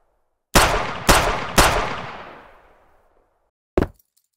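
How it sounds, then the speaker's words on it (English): Weapon fire in the realistic multiplayer game Callout: three loud, sharp shots about half a second apart, each ringing into a long fading echo, then after a pause a single short, punchy report. No voices are heard. "I implemented them, and it brought a much more powerful feeling to the weapon."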